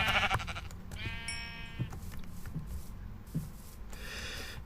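Sheep in the Minecraft video game bleat in short, clear, buzzy calls over a steady low background hum, one near the start, another around the middle and a third near the end.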